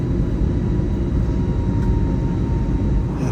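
Inside a Delta airliner climbing out, a loud steady low engine roar and broadband rushing hum fill the cabin without letup.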